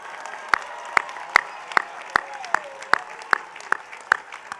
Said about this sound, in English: please stand if you are able so we could recognize you with a round of applause